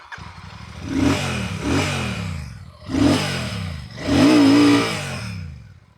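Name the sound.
Royal Enfield 650 twin motorcycle engine revving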